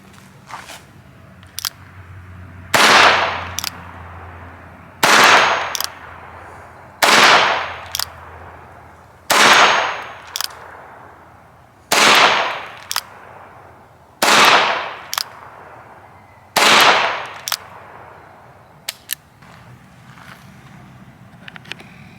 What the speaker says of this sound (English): it appears as though a 22 will puncture a fire extinguisher